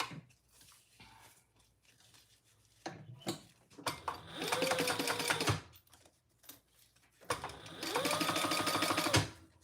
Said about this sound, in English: I'm just going to sew that side down.